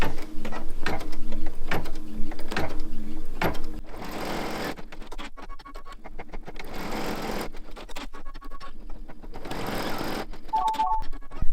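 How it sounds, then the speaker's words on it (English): A home embroidery machine stitches a red-thread placement line for appliqué berries on a blanket, its rapid needle chatter loud and steady at first, then continuing at a lower level with brief pauses and faint mechanical beeps near the end. "The next step of the design is to stitch the placement line for the berries."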